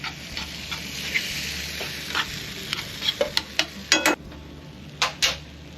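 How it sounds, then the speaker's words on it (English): Lobster meat tossed into a hot pan for lobster pasta sets off a steady low sizzle, broken by scattered metallic clinks and scrapes of a spoon against the pan that cluster toward the end. "Just going to toss our lobster meat in there."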